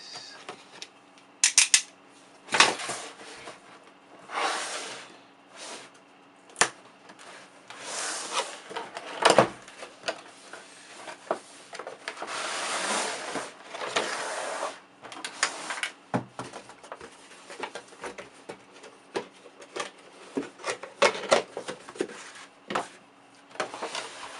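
Cardboard and plastic packaging rustle, scrape and thump up close as the box of a Corsair Vengeance K90 MMO mechanical gaming keyboard is opened, with irregular bursts of handling noise and brief pauses.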